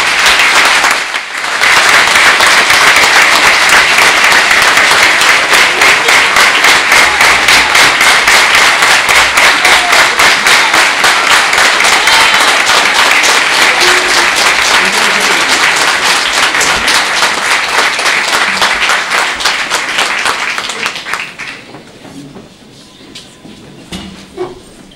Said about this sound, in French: Comme vous avez applaudi à ma venue, je vous propose de faire exactement la même chose pour la vie.